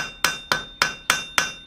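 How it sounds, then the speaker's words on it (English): Hammer blows planishing a forged steel foot tool for metal chasing, six sharp ringing strikes at an even, steady rhythm, close and loud with bright metallic ring decaying between hits. "planish it down in this direction, and again, square it back up in this direction"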